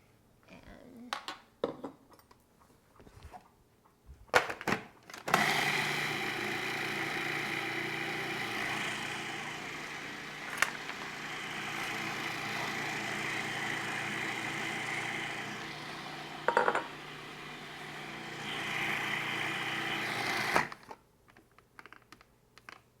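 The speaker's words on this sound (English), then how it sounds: "have all the salt and lemon juice blended" A blender whirring as it blends salt and lemon juice, a steady loud motor drone lasting about fifteen seconds, with short clatters and knocks before and after it.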